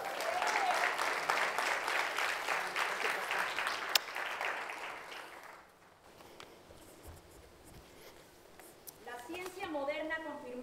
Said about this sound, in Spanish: Y un aplauso bien fuerte